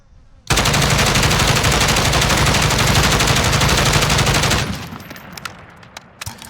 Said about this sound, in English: And I'm going to shoot the gun, and we're going to see what kind of recoil it gives.